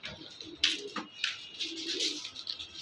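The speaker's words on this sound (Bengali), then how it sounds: "এইখানে একটা পায়রা দেখাচ্ছি, দেখুন" A racing pigeon from a large tournament loft gives a soft, low coo under sharp clicks and flapping bursts nearby.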